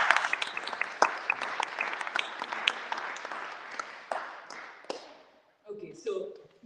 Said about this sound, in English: maybe we'll have one last round of applause for the literacy.